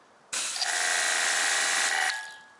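A Kranzle K1322TS pressure washer starts with a sharp onset and hums steadily for under two seconds at close range, then winds down and fades away.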